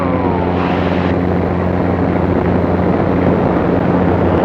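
A Zenith CH 750 Cruzer light airplane's engine and propeller droning steadily and loudly at close range, a constant heavy hum during takeoff and landing practice, with no talk over it.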